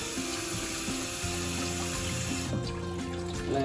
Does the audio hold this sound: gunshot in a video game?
no